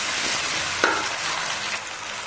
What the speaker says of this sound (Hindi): अब मैं इसमें टमाटर डाल दूँ, और 2 मिनट के लिए भूनूंगी